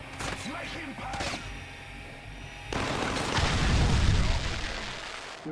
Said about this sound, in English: Mantis engine destroyed.